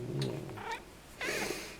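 A pet cat vocalizes with a few short meow-like cries, near and fairly loud, with a brief pause before a longer, louder cry at the end.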